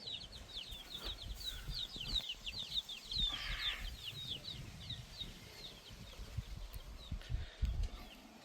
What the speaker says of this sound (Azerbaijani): Burada da biraz böyük cücələrdir.